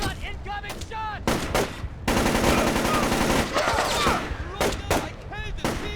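Gunfire in Splinter Cell Chaos Theory, sharp repeated shots and a sustained automatic burst, loud and close, mixed with voices shouting between volleys.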